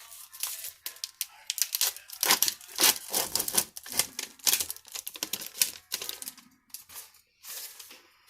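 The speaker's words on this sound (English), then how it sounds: "Going to open up my abdominal pad." Abdominal pad dressing packaging is torn and crinkled open during a wound dressing change, a run of close, crisp ripping and rustling bursts with short pauses between them and no talking.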